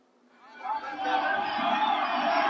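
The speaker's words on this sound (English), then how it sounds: "Got a weird thing going with my crowd noise" Stadium crowd noise under an NFL broadcast of the New York Giants at Washington swells up over the first second into a steady, loud roar of cheering and chatter that holds to the end, with no announcer speaking over it.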